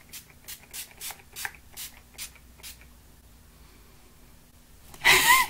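A rose essence facial mist sprays onto a face in one short, close burst of hiss near the end, after a series of soft, regular tapping or rubbing sounds.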